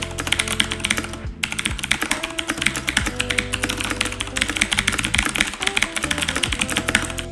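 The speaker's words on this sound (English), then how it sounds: "My keyboard is the K70 Mark II with blue switches" Rapid, continuous clicky typing on a Corsair K70 Mark II mechanical keyboard with blue switches, close up and steady with a brief pause, no voices.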